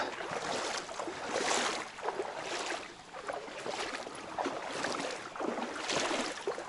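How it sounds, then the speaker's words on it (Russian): Soft, steady rushing water from a small stream, with a broad hiss that rises and falls gently, heard at a moderate distance outdoors. "Здесь шумом какой-то ручеек течет"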